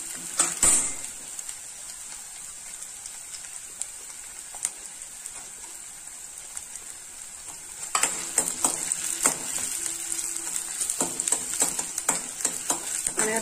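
Onion frying in a pan for masala Maggi noodles, giving a steady soft sizzle throughout, with occasional clinks and scrapes of stirring that grow busier toward the end.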